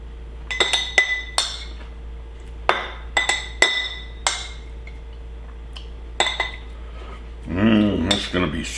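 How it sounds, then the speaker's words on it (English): A metal spoon clinks repeatedly against glass jars while meat is scooped in, sharp bright taps in uneven clusters, close and loud, followed by a brief rustling scrape near the end. "I'm going to put some meat in there. Let me get a spoon."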